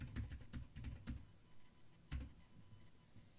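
Soft, quick keystrokes on a computer keyboard entering a command in drafting software, a few irregular bursts of typing with a short pause, fairly quiet and close, with no talking.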